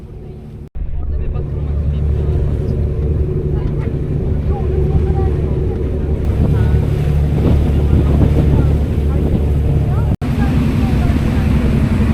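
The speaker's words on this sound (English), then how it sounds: "this short boat ride takes you from Europe to Asia" A boat engine rumbles low and steady over rushing water and wind buffeting the microphone on a Bosphorus crossing in Istanbul, continuous throughout with a brief cut near the end.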